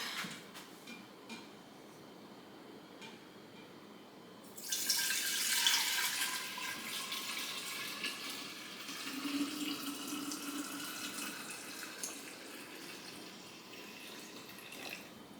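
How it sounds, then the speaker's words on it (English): Kombucha liquid pours steadily into a jar, a bright splashing rush that starts suddenly, holds for several seconds, then settles into a softer trickle. "We pour the liquid down. Let me pour it."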